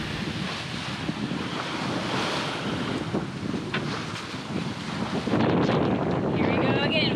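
Storm wind howls across a reefed sailboat at sea as waves rush and surge around the hull, a loud continuous roar that grows rougher toward the end, with voices partly masked beneath it.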